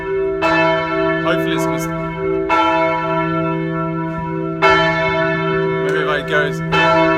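A church bell rings right overhead in Pristina, Kosovo, with loud, ringing strikes at about two-second intervals whose long hum carries between them, while someone talks briefly alongside.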